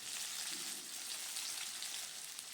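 Rohu fish pieces fry crisp in hot oil, producing an even, hissing sizzle that stays faint and unbroken throughout.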